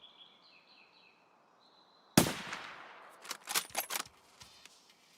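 Gunfire in a sniping video game hunting Killa: one sharp crack after a quiet stretch with faint tones, followed by a quick cluster of distant shots and clicks.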